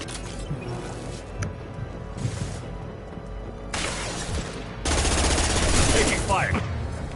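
Rapid bursts of automatic gunfire from a sci-fi shooter game, loud and close, crackling in sustained volleys with brief pauses, the heaviest stretch building near the end.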